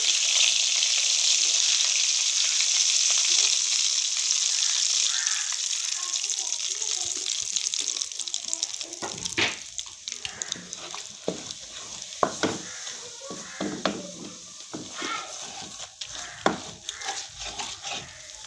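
Chickpea flour (besan) roasts on low heat in a pan for egg halwa, giving a steady soft sizzle with stirring scrapes and occasional clinks that grow more pronounced in the second half.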